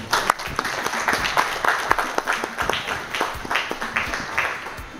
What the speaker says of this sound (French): Est-ce qu'on peut applaudir pour les professeurs, s'il vous plaît?